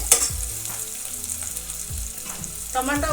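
Onions sizzle and fry in a pan for a drumstick curry, a bright continuous crackle with occasional stirring scrapes and clinks, close up and with no talking.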